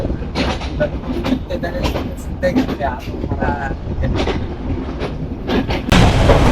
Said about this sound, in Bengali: আমরা খুলনা রেল স্টেশন ত্যাগ করলাম